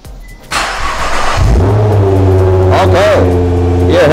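A Nissan GT-R R35 starts up: a quiet moment, then the engine cranks and catches, settling into a loud, steady idle with a brief rev in the middle, heard up close.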